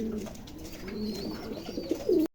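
Roman pigeons cooing close by, a few low rolling coos over faint background noise.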